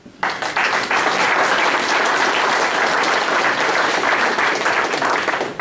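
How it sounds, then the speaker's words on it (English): Dense, loud applause from a touchdown club banquet audience fills the room, starting abruptly and holding steady throughout without any voices over it. "let's give another round of applause to our local coaches"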